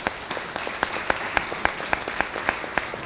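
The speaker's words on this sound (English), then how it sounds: "Round of applause for Peach" Scattered clapping from an evening event audience acknowledging a sponsor, individual claps distinct and fairly sparse, a modest crowd rather than a roaring one.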